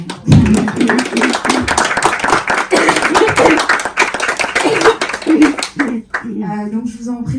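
An audience applauds filmmakers at a film festival Q&A in Paris, a dense spell of steady clapping that dies away near the end as a voice starts speaking.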